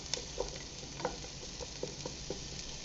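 Chopped onion, under a cup, frying in butter in a skillet for stuffed cabbage: a soft steady sizzle with a handful of light utensil taps and stirs spread across the moment, fairly quiet and close, with no talking.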